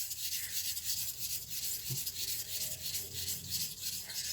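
A blade is polished on a 400 grit sharpening stone in soft, regular back-and-forth rasping strokes, close and fairly quiet, with no talk.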